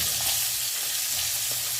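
Garlic and white onion sautéing in hot oil, a loud continuous sizzle and crackle with stirring close by, no voices.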